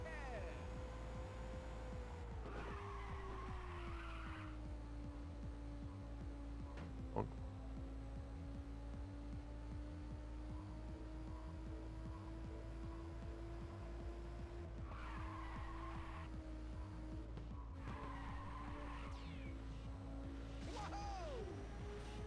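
Race car in the PSP game Ridge Racer 2 drifting through corners: a steady, humming engine drone under repeated, drawn-out tire squeals and screeches, with a brief sharp knock midway.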